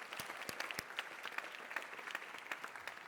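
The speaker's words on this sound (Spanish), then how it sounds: "Un aplaudiment per elles, si us plau." An audience at the Cornellà Creació Fòrum 2026 applauds two Fem Impro improv performers: a steady patter of many hands clapping with sharper individual claps, sounding faint and somewhat distant throughout.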